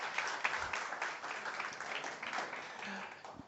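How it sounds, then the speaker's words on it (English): A large audience at a talk on generative AI in teaching gives a sustained round of applause for a professor, a dense wash of clapping that stays fairly distant and steady. "Can we have another big round of applause for Prof."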